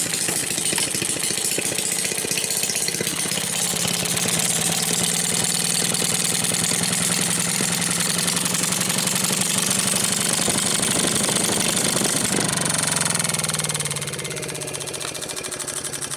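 A Maytag model 72 washing machine's small gas engine runs at a steady, loud putter with rapid knocking firing pulses, then drops in pitch and level near the end as it slows.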